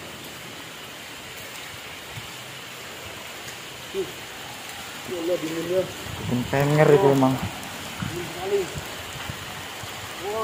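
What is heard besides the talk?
heavy rain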